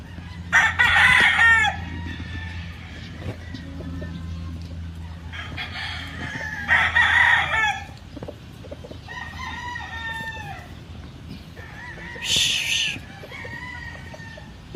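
A rooster on a big farm in the Philippines, a bird with sickle feathers, crows several times in long, strong calls, with clucking hens and farmyard bustle faintly in the background.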